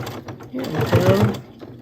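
A sewing machine runs in short bursts while back stitching through thick layers of a quilted potholder, its motor whirring and needle clattering close by, loudest in the middle.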